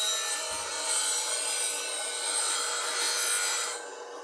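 A D-Way bowl gouge is held against a spinning grinder wheel, giving a steady, loud, bright hiss of steel being ground that runs almost the whole time and fades off right at the end.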